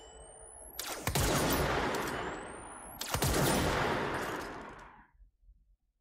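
The Perforadora weapon in the video game Control fires two big sustained blasts a couple of seconds apart, each opening with a rising whine and a sharp crack, then a dense roaring rush that fades out.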